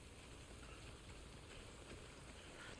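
Steady rainfall in the video game Death Stranding, a continuous faint wash of hissing rain with no breaks, soft and even throughout.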